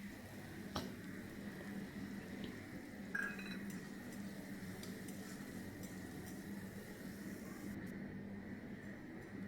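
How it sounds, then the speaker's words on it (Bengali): Chopped onions frying in a pan for Bengali dum aloo, a soft, steady sizzle with occasional clinks of a utensil, quiet and continuous, without talking. "দিয়ে ভালো করে পেঁয়াজগুলোকে আমি লাল করে ভেজে"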